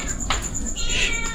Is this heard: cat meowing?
yes